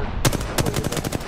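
Rapid R99 submachine gun fire in Apex Legends, two short automatic bursts of sharp, close shots.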